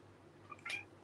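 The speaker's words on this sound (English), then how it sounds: "She's outside. She's calling you." Cat meowing outside at the door, a single brief meow heard at moderate distance against a quiet indoor background.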